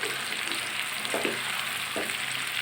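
Raw mango pickle with skins fries quietly in oil after panch phoron spices go in, a soft steady sizzle with a few faint stirring scrapes, low in level and without voices.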